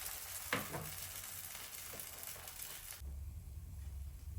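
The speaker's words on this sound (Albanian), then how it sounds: "Dhe në mënyrën e njëjtë vazhdojmë në tutje me fërgimin e gjithë pallaçinkave" A cornmeal crepe fries in a 26 cm oiled pan, giving a faint, steady sizzle with a soft scrape of handling early on.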